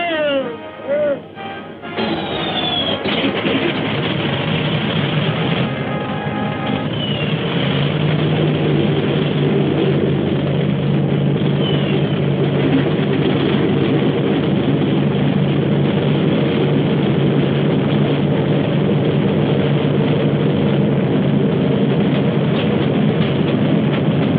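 Military aircraft engines starting and settling into a steady, loud, continuous propeller drone that holds throughout, with a sputtering start at the beginning.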